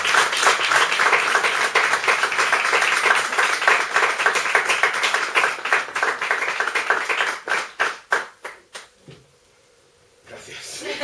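An audience at a book presentation in a bookshop claps steadily, close and dense, then the applause thins into scattered claps and stops, with a brief quiet moment before a voice begins.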